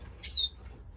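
A young siskin, a captive-bred finch, gives one short, high chirp that is clear and close against a quiet indoor background.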